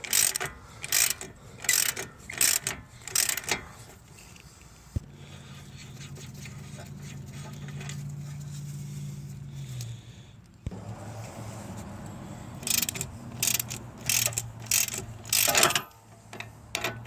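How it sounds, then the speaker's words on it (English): A ratchet cranking on tight CV axle bolts of a 2008-2013 Nissan Rogue, heard as bursts of quick, close ratcheting clicks that start and stop, with a quieter mechanical stretch in between. "You'll need an extended ratchet or a breaker bar."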